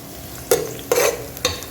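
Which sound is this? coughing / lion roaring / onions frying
onions frying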